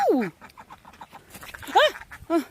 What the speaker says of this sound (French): c'est un canard, là